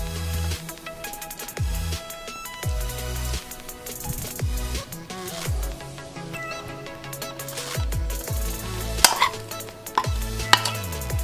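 Chicken pieces are tossed in maida and cornflour with two spoons, producing uneven clinks and scraping against a bowl in irregular bursts, close up over a faint musical background.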